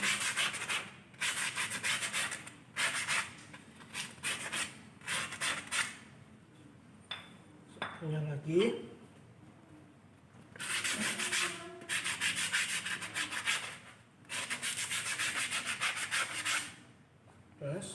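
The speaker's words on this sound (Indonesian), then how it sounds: "kita mengamplas kampas rem cakram roda depan ya, kiri dan kanan" Sandpaper rubs back and forth on front-wheel disc brake pads in repeated bursts of rough scratching, pausing between strokes, with one short spoken phrase in Indonesian mid-way.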